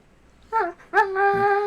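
A dog whimpers close by, giving a short whining yelp and then a longer drawn-out whine, with no one talking.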